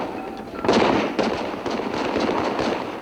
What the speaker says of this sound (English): The police had orders to fire live ammunition, and they did.